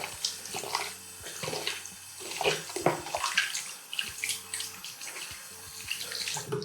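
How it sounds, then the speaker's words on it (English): Tap water runs and splashes as a shaving bowl is rinsed out, a close, continuous gush with sloshing and changing splashes and no voices. "Just wash my bowl out."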